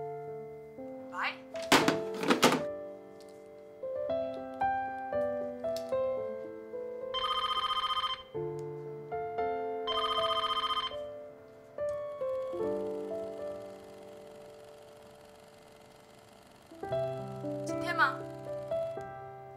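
A telephone rings unanswered in repeated ring bursts, with music and a speaking voice heard around it.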